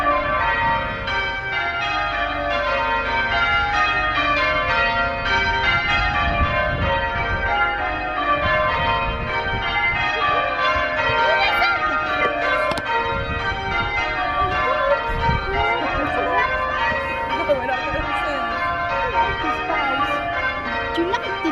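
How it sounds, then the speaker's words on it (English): Church bells peal continuously and fairly loud through the whole stretch, dense overlapping strikes forming a steady ringing wash near Boston's Stump, with no talk. "So there's the bells again."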